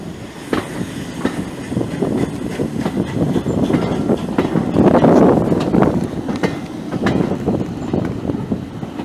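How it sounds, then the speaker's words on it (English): A steam train runs along the rails, heard from on board as a steady rumble with rhythmic clicking of the wheels and some wind buffeting the microphone, continuous and fairly loud. "The steam train?"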